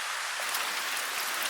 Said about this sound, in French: La pluie qui s'arrête ou pas?